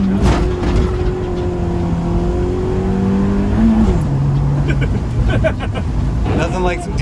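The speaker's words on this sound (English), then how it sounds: "Oh, wheel spin, wheel spin." A Honda Civic with a D-series engine revving hard as its wheels spin under acceleration, the engine note rising and shifting close by, with people talking over it.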